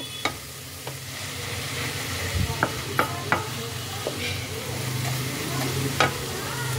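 Grated carrots for carrot halwa are stirred in a pan as they cook, giving a steady sizzle and fry. Scattered scraping clinks and taps from the spoon against the pan break through close up.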